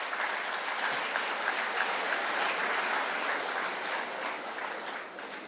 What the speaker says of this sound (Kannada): ಆ ಸಂಸ್ಥೆಗೆ ನಾವೆಲ್ಲರೂ ಕೂಡ ಚಪ್ಪಾಳೆಯೊಂದಿಗೆ ಒಂದು ಗೌರವವನ್ನು ಸಲ್ಲಿಸೋಣ ಮಕ್ಕಳೇ